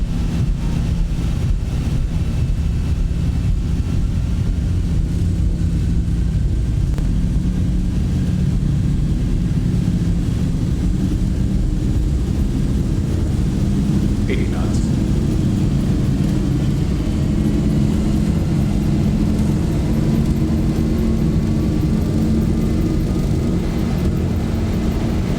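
Aircraft engines in the X-Plane 12 flight simulator roar steadily and loudly through a takeoff, a constant low droning hum with no break in level.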